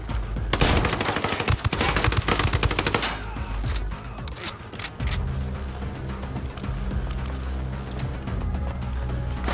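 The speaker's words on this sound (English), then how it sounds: "Throwing a flashbang." Heavy rapid automatic gunfire erupts at the start, then sharp bangs and a flashbang blast, with scattered shots continuing under game ambience in the video game Ghost Recon Wildlands, loud and close.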